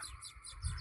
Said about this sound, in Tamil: தூக்கணாங்குருவி சத்தம் கேட்குது பாருங்களேன்.